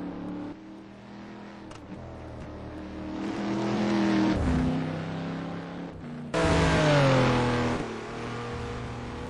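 Porsche race cars battle closely on the Nordschleife track, with engines revving and pitching up and down through gear changes, loud and near, and a sharp surge as the cars pass.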